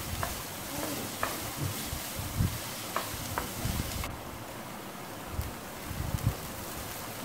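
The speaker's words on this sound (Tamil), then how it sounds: "இதெல்லாம் நம்ம கொஞ்ச நேரம் நம்ம வதக்கிக்கலாம்." Onions sauté in a pan for bread upma, a soft continuous sizzle broken by scraping stirs and light knocks at irregular intervals, fairly quiet and close.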